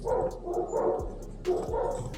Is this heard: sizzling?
no